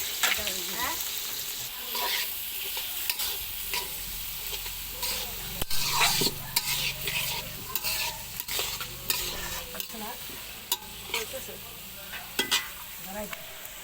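Onion and green chili fry in a pan, a steady loud sizzle with frequent scraping stirs and occasional sharp clinks of a utensil against the pan throughout, no talk.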